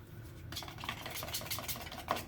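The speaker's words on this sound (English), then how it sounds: "I'm going to use one of my palette knives here to stir it up a bit" A palette knife stirs aqua-green acrylic paint into a light green, making quiet, close, wet scraping and smearing strokes in quick succession after a brief pause.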